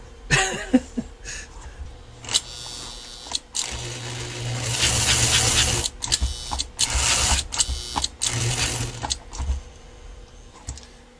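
American Flyer model train locomotive running sluggishly on track after an E-unit locking lever fix, a close mechanical whir and buzzing hum interrupted by clicks and brief stops, with no talking.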